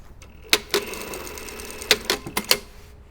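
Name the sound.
sewing machine sewing shoulder seams of facings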